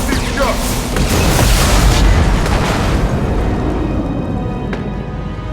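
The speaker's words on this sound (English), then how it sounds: "Enemy! Firing concussive shots!" Concussive shot blast in Mass Effect 2, a loud close boom with a dense rumbling tail that slowly fades over several seconds, with voices mixed in.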